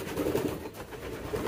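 Pigeons coo softly while being fed, a faint, short burst of low murmuring calls with no voices over it.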